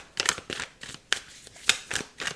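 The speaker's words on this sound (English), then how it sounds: "it's a lot of shuffling" Tarot cards being shuffled by hand, a series of about eight crisp riffling bursts spaced irregularly, close and moderately loud with no talking.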